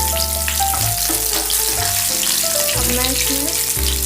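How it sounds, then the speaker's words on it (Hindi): Onions sizzle and fry in a hot pan for chilli paneer, a steady close crackle with clattering and stirring noises over it and no talk. "तो मैं सबसे पहले इसमें प्याज ऐड करूँगी।"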